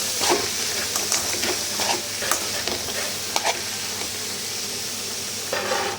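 Beetroot being stirred as it fries in a pan, a steady sizzle and crackle with repeated scraping strokes of the spoon close by, no talking.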